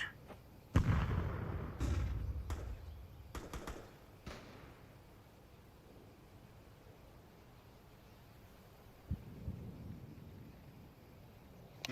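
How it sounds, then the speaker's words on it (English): A thrown grenade and other utility going off in a Counter-Strike 2 match, a cluster of sharp bursts and pops early on followed by quieter game ambience and one more distant thud near the end. "Throwing a grenade."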